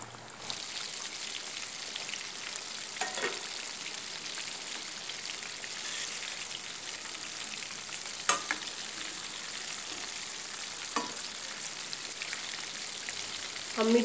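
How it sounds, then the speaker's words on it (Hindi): Chicken oats nuggets frying in oil over a medium flame, a steady, even hiss of sizzling bubbles running throughout with a few faint clicks and taps of a utensil near the pan. "हम मीडियम फ्लेम पे उसको फ्राई करेंगे क्योंकि हमारी चिकन जो है वो कच्ची है"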